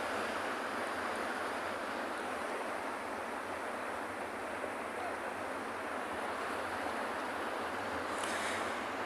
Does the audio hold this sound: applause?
no